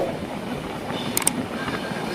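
The Sikkim Mahananda Express runs along the rails through tea gardens, heard as a steady rolling rumble with a couple of brief high metallic squeaks in the middle.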